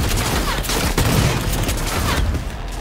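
Gunfire in the video game Cyberpunk 2077: dense, sustained volleys of shots that run together into a loud, continuous burst for a few seconds.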